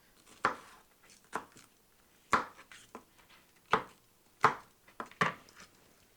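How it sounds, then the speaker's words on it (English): Knife chopping food on a cutting board in a home kitchen, a sparse series of sharp, close knocks at an uneven pace with quiet pauses between. "So now we're just going to continue cutting."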